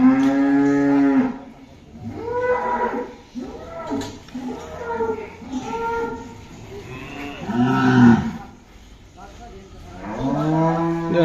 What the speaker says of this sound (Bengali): পাগল অবস্থা গরুটার